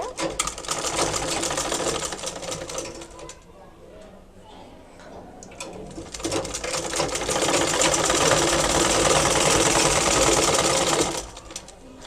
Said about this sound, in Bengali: এই মাপ অনুযায়ী রেখে সেলাইটা করে ফেলবো